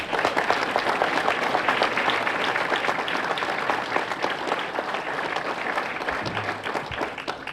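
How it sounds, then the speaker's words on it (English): An audience at a breakfast event applauds the coaches in the room, a sustained round of clapping that stays fairly steady and moderately loud, with a few louder claps near the end. "Let's give you a round of applause."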